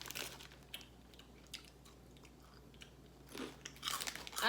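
Crunching on Bugles corn snacks during a UK snack taste test, a few crisp bites and chewing close up, strongest near the end, with no talking.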